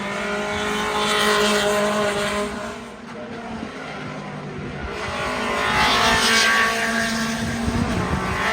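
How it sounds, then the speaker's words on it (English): A Honda CR-V fitted with an IndyCar engine drives past at a racing event, its loud, sustained engine roar swelling and fading over several seconds with a brief dip in the middle, outdoors in an open space. "So that's the CRV with the IndyCar motor."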